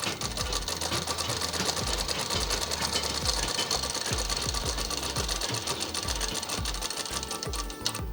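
A sewing machine runs continuously, stitching a sleeve onto the front of a child's umbrella frock, its rapid needle chatter close and steady with no talk.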